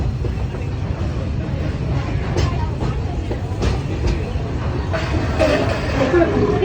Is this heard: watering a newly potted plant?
no